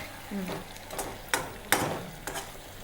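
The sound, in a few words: stirring pachadi curry in a pan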